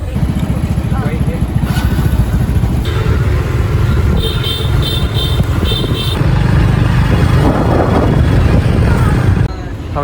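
Motorbike traffic in Vietnam: engines drone and putter close by with passing vehicles and brief horn beeps, steady and fairly loud throughout.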